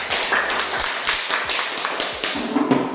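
Schoolchildren clapping their hands together in a classroom, a quick run of sharp claps that starts together and trails off raggedly over a few seconds, close and fairly loud.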